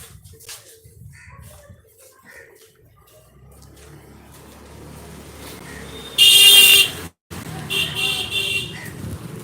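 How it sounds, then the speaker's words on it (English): Morning street ambience in Pushkar, India, with distant traffic, then a loud, close car horn blares for about a second, followed by further honking amid the bustle. "the constant, incessant beeping in some areas of India"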